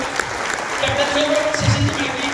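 An audience at a meeting applauds a guest being welcomed, a continuous moderate clapping with voices talking faintly through it.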